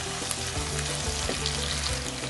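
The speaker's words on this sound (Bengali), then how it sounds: "পেঁয়াজ ভাজা হয়ে গেছে, দেখুন অনেক সফট হয়ে গেছে পেঁয়াজ" Sliced onions fry soft in a pan, giving a continuous dense sizzle with faint stirring scrapes underneath, close and steady, with no voices.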